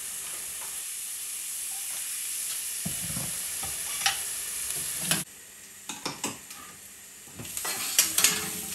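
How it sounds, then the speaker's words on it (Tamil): Small onions sautéing in a pan for a mutton liver pepper masala, a continuous close sizzle with scattered spoon scrapes and clinks against the pan, no talking. "வெங்காயம் நல்லா வதங்கிடுச்சு."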